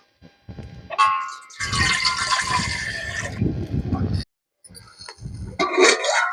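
Water pours into a pot set on a stove while cooking urad dal porridge. A few knocks come first, then a sustained splashing pour of a few seconds, followed by more pouring and clatter.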